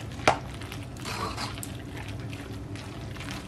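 Milk mix being stirred into mac and cheese, a soft wet squelching and dripping with one sharp splash near the start, quiet and close with no talk.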